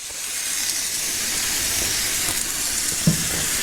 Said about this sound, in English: tonight I am cooking up some thick cut bone-in pork chops